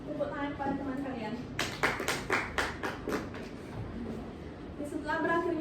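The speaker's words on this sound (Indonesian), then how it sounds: "Tepuk tangan pada teman kalian." A classroom of students gives a short burst of clapping for a classmate, loud and sharp for about two seconds between stretches of a teacher's talk.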